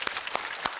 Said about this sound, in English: Give yourselves a huge cheer